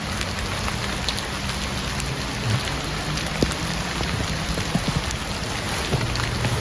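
Heavy rain pours down steadily and close at hand, a dense even hiss broken by scattered louder drops hitting nearby surfaces, with no voices.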